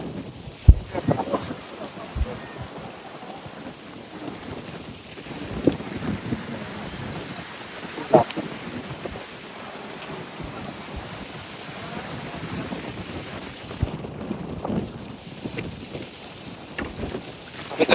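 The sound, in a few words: strong wind and rain on a river during a storm, boat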